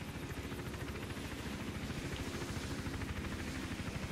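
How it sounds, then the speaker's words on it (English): A game helicopter in Hitman Absolution, loud steady rotor chop pulsing rapidly and evenly throughout, with no other sounds competing. "Got this stupid helicopter to worry about."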